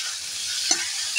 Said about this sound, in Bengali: মশলা বেশ ভালো করেই ভাজা হয়ে গেছে,